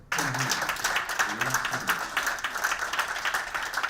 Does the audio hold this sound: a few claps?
yes